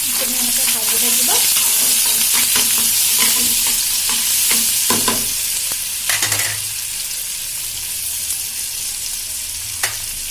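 Kerala (bitter gourd) pieces sizzle in a hot pan in an Assamese kitchen, with repeated scraping stirs of a spatula over a constant loud frying hiss.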